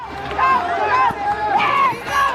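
A crowd of fans at a grocery bagging competition, cheering and shouting all at once. The noise is loud and continuous, with excited voices rising in overlapping swells.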